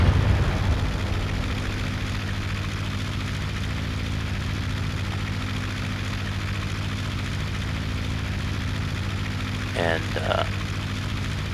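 Steady droning engine of a Ki-43 fighter plane in the Aces High 2 flight game, a constant even hum throughout with a brief voice near the end.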